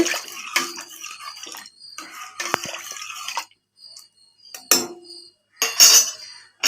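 A spoon stirs salted breakfast ingredients in a pressure cooker pot, making intermittent metallic clinks and scrapes in short bursts separated by quiet pauses.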